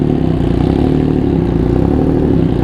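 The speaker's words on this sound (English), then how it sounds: "fire this baby up so you guys can hear the exhaust while I gear up" An MV Agusta race motorcycle engine idles loudly and close by, a deep, steady exhaust rumble with a fast, even throb.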